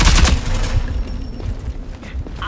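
Rapid gunfire in the video game Rogue Company, loud and dense at the start, then continuing as quieter scattered bursts until the magazine runs dry.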